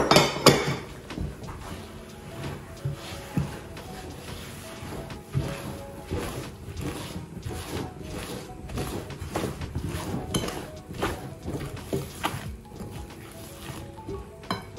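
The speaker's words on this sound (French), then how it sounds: "maintenant, je vais incorporer la noix de coco râpée" A spoon knocks and scrapes in a bowl as grated coconut is mixed into cake batter, giving irregular clinks and taps with soft stirring between, close and alone.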